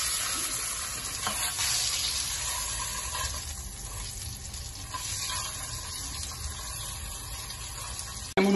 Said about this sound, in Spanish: Tenemos nuestro salmón bien asado.